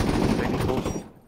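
Rapid gunfire in a competitive team shooter match, a dense, loud, close burst that cuts off abruptly near the end.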